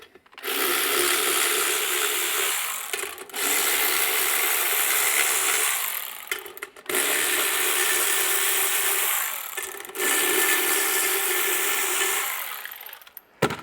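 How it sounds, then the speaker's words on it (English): A cordless battery ratchet drives out the outer bolts on a Detroit 750mm industrial wall fan, buzzing loudly in three long bursts separated by short pauses, with no talking. "that's how quick it is when you use the battery ratchet."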